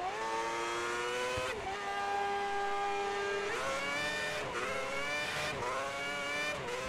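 A Formula One car in the F1 2010 racing game on track during Malaysia qualifying, its high-pitched engine revving and rising through gears with sharp shifts and pitch drops, loud and alone.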